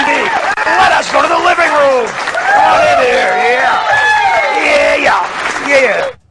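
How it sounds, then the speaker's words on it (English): Applause and cheering from a crowd fill a TV show's living-room set, with whoops and voices mixed in for several seconds before cutting off abruptly. "Now, you hear the applause."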